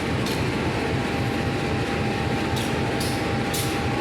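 A Serayu passenger train pulls into Kiaracondong station in light drizzle, giving a steady, loud rumble of rolling carriages with a faint tonal whine and a few brief rail clatters.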